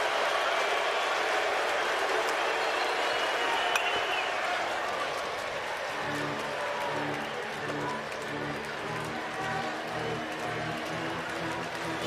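Stadium crowd at the 2023 College World Series final, LSU versus Florida, tied 3-3 in the bottom of the ninth, roars in a steady, dense wash of cheering that holds loud throughout, with a low repeating hum joining partway through.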